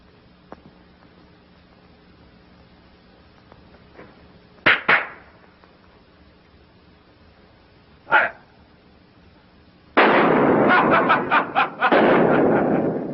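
Gunshots from a gun: after faint ticks, two sharp loud shots close together, another single shot a few seconds later, then a rapid burst of shots with loud, reverberant blasts running to the end.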